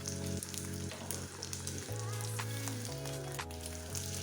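A date omelette frying in a pan on a medium flame, a soft steady sizzle under a constant background hum and tones, with no talking.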